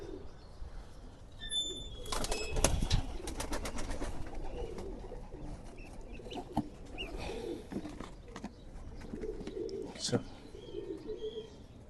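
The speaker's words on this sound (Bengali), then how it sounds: "এখানে একটা কবুতর আছে" Pigeons coo softly nearby, low throaty calls repeating over a busy background with some chirps and clicks, and a person talking at times.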